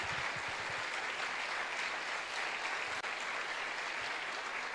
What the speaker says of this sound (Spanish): Dale un aplauso al Señor porque Él sigue